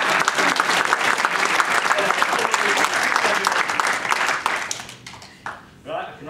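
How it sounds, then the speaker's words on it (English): Wedding guests burst into a dense, loud round of applause that holds steady for several seconds, then thins and fades away as a voice begins to come through near the end. "one more round of applause, please, for Richard"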